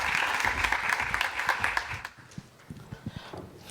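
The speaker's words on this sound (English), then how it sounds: "Let's give a very, very warm round of applause to Adria Everyh" An audience at a conference on infrastructure integration and investment gives a warm round of applause for a speaker, loud at first then thinning to a few scattered claps and footsteps.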